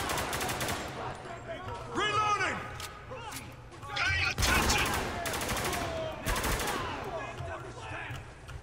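AK rifle gunfire in the video game Spec Ops: The Line, heard as repeated loud automatic bursts with sharp cracks and echoing tails, mixed with game sound effects and someone speaking in between.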